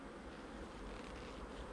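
Dense, steady buzzing of many honey bees, continuous and close, with no pauses and no voices.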